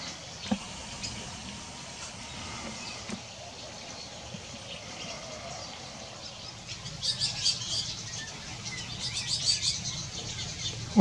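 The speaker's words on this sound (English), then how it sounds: "White-breasted nuthatches are nesting here by the porch." Birds at Ash Canyon Bird Sanctuary near a porch where white-breasted nuthatches nest chirp faintly and sparsely over steady outdoor ambience, with a few brief bright calls in the latter half.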